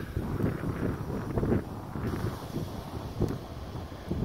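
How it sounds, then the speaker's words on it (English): Steady wind buffeting an outdoor microphone at a sawmill, a low rumbling roar with gusty swells throughout, no voices. "And of course a little wind here at the sawmill."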